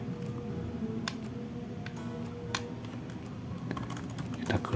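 Close clicks of a computer keyboard being typed on at an Ubuntu terminal, irregular keystrokes with a few sharper taps over a low room hum, brief murmuring voices in the background.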